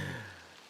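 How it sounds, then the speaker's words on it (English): Light rain patters steadily during an outdoor winter disc golf tournament, a faint, even hiss that fades slightly, with a low hum underneath and no one talking. "Hear a little bit of rain coming down as well now"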